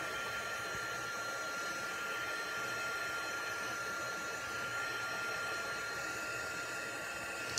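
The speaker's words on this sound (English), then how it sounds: "So I'm just going to heat it once more." A heat tool drying liquid masking fluid on watercolor paper blows a steady, close, airy whir that holds unbroken from start to finish.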